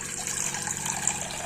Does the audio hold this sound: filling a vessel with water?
yes